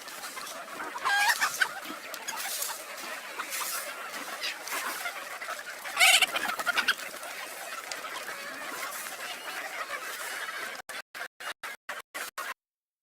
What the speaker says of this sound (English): Here are some strains of broiler chickens grown in Indonesia.